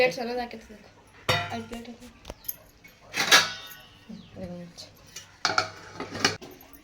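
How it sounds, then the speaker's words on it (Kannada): A pressure cooker is washed with loud metallic clanks and scrapes against a sink, coming in irregular bursts, while people talk between and over the clatter. "ಈಗ ಇದ ಕುಕ್ಕರ್ ಇದನ್ನ ಹೋಗಿ ತೊಳ್ಕೊಬೇಕು"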